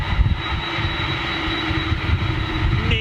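A fixed-wing jet airplane's engine roars steadily and loudly throughout, a broad continuous rumble carrying a thin high whine, heard outdoors with no voices.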